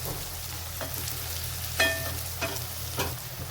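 Tomato and onion fry in a hot pan for dhaba-style paneer bhurji as spices go in, giving a steady close sizzle with a few sharp stirring clicks and scrapes over it.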